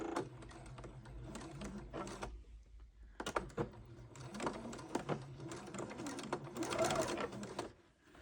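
A sewing machine stitches a quarter-inch seam on a star quilt block, running in steady mechanical bursts with brief pauses between them, close and moderately quiet, no voices.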